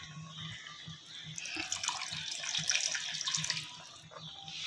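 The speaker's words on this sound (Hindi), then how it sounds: "पानी ऐड करूँगी" Water is poured from a container into a pot of cooking chicken for biryani, a continuous splashing gush that swells and then tapers off, with faint clinks underneath and no talk.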